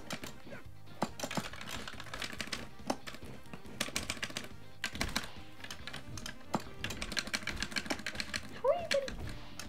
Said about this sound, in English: my controller is making very loud, satisfying clicking noises